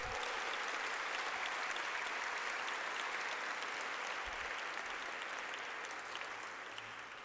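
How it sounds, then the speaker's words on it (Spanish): An audience at a university's institutional report ceremony applauds steadily, a dense, even wash of clapping that holds for several seconds and fades slightly near the end, heard at moderate distance. "Les pido un fuerte aplauso para él y para todo el equipo."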